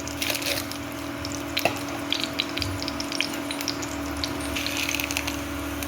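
Fennel seeds fry in a spoonful of oil at the start of a mutton curry. A soft, steady sizzle runs throughout, broken by faint crackles and scattered light clicks of stirring.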